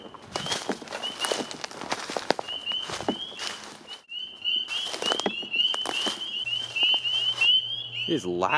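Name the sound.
frogs croaking at night by a pond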